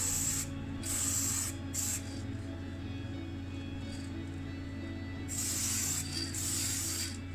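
Black primer sprays from an aerosol can onto a stripped 1974 Renault 17 TL body during restoration. Several close hissing bursts start and stop, the longest near the end, over a steady low background hum.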